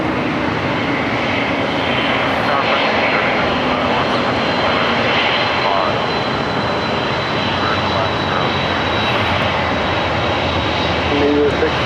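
An airplane roars on its takeoff run from runway 25 right at Los Angeles International, the loud engine noise steady and sustained throughout, with radio voices faintly beneath.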